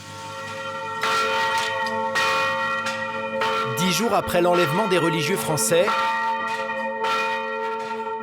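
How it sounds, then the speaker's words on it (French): Church bells across Haiti ring out loudly and repeatedly at noon, layered and resonant, while a voice speaks over them in the middle. "toutes les cloches du pays sonnent en même temps, à midi pile."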